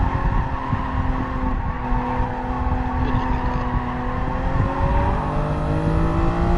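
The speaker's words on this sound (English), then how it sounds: "Benny's in the old NSX now" A Honda NSX race car engine in a racing video game screams continuously at high revs, its pitch rising and shifting through gears, loud and close with faint tire noise.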